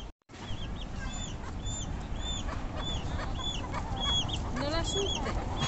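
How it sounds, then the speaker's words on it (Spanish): Fine gamecock roosters cluck and crow in short, repeated calls over a steady, dense background of farmyard noise, with occasional voices faintly present. "Son gallos finos."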